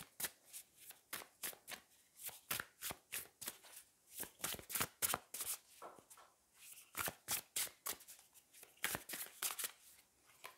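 Wild Unknown tarot deck shuffled by hand up close, a rapid run of crisp card riffles and slaps in uneven bursts, with no voice over it.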